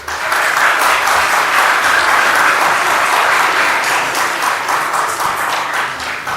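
Sustained audience applause for speakers at a financial literacy expo closing event, dense and even clapping from a large crowd that holds steady throughout.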